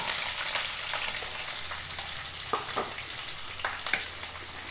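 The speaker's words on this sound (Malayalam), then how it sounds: "നമുക്ക് സവാള ഇട്ട് കൊടുക്കാം." Sliced onions drop into hot oil that already holds garlic, for a simple curry, and fry with a loud, dense, continuous sizzle, punctuated by sharp crackles and stirring clicks close by.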